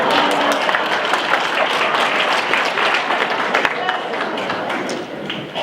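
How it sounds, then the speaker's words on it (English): Audience applause at a local meeting, a dense, sustained wash of many hands clapping at steady loudness throughout. "that's an applause line"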